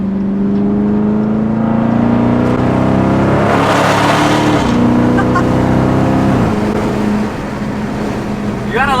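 A Dodge Charger 392 Scat Pack widebody accelerates hard, its engine note rising steadily and dropping at gear shifts, loud and close from inside the car.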